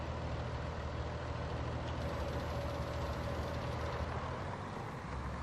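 In Farming Simulator 19, a tractor engine drones steadily while pulling a conventional plough, a low, even, continuous rumble at moderate level with no talk over it.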